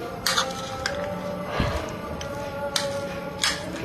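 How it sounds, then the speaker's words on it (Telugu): Utensil clinking and scraping against a bowl while salt and pepper are mixed into chopped green chilies, with a few sharp taps over a steady low background. "దెన్ పెప్పర్, ఇవి రెండు యాడ్ చేసేసి బాగా మిక్స్ చేసేయాలి"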